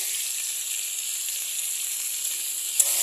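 Small fish fry in oil with turmeric and chili powder added, a steady close hiss of sizzling throughout with a slight crackle near the end, no voices.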